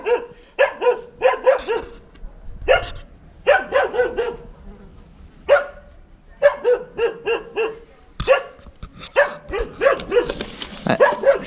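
A dog near a camper van in the Moroccan Atlas town of Imouzzer du Kandar barks repeatedly in quick clusters of sharp, loud barks separated by short pauses, with no talking.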